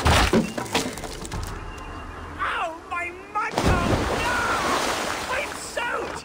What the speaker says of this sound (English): Ah, water! I hate water!